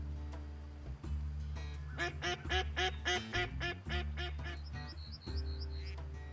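Wild ducks in the hunting video game Way of the Hunter give a rapid run of loud, close quacks in quick series, followed by softer, higher calls over a steady low background rumble with no talk.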